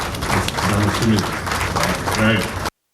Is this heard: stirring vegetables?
no